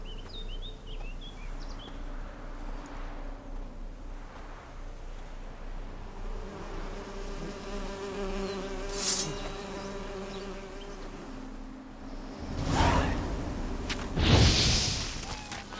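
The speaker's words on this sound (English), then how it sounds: "The birds singing, the bees buzzing." Insect buzzing from bees in The Witcher 3 fills an outdoor game scene, a steady drone with a few distant bird chirps on top and louder bursts near the end.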